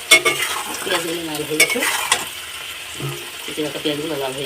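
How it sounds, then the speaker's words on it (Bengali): Chopped onions frying in oil for a pomfret fish curry, stirred in the pan with scraping strokes over a soft sizzle, while a person talks throughout. "এবার দিয়ে দেবো পেঁয়াজ পেঁয়াজ কুচি তো এটার সাথে বেশ কিছুক্ষণ ধরে ভেজে নেবো"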